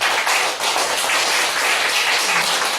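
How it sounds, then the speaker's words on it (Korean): A church congregation at Sunday worship claps together in a full, continuous burst of many hands, fairly loud and close, with a brief dip early on and no speech over it. "박수를 좀 쳤으면 좋겠어요."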